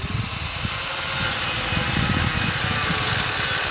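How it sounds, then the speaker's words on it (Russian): A power saw cuts through old, rotten metal pipes salvaged as scrap from a Soviet-era dacha, a loud, continuous grinding whine with rough, pulsing low rattles as the blade bites. "И Муслим там пилит"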